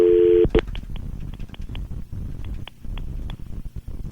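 A telephone line tone sounds briefly before breaking off into a rapid series of short, sharp clicks and dial tones over a noisy, windy background during a call placed from a phone.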